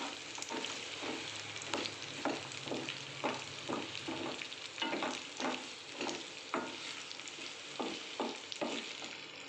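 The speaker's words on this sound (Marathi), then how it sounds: "आता आपण याच्यात भेंडी टाकून घेऊ व्यवस्थित हलवून घ्यायचे त्याला" Okra frying in a pan is stirred with a spatula, giving regular, close scraping strokes about twice a second over a steady, moderate sizzle.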